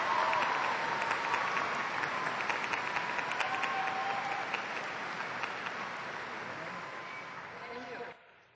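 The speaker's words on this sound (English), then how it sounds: "Let's give them a round of applause." Sustained applause from a large graduation ceremony audience, dense and steady, slowly thinning before stopping abruptly near the end, with faint voices mixed in.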